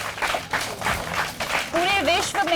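Brief applause from a small gathering in a Bulandshahr neighbourhood, clapping fades as a voice comes in over it.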